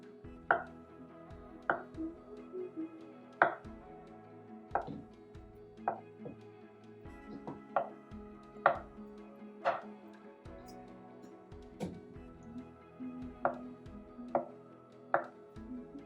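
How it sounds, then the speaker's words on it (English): A knife cuts through an avocado on a board for vegan avocado sashimi, making a slow, regular series of crisp, close taps, about one every second, with no talking. "Slicing the avocado."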